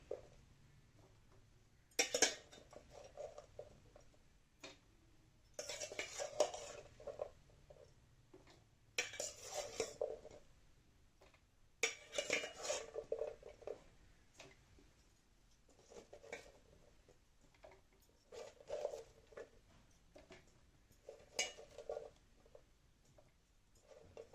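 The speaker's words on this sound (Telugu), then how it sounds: "ఇందులో మనం ముందుగా క్లీన్ చేసి పెట్టుకున్నాం కదా కాలీఫ్లవర్ పీసెస్, అవి యాడ్ చేసుకుందాం" Cauliflower pieces are tossed into a thick spiced batter for Gobi 65, giving repeated wet squelching and clattering bursts from a spoon against a bowl, spaced every few seconds at a moderate level, with no talking.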